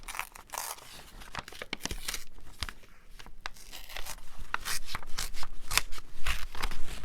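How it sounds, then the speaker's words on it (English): A vinyl stencil grid being ripped off a surface, giving a run of crackly tearing and peeling sounds, close and fairly loud, in uneven bursts with no talk. "And you're just going to rip this off."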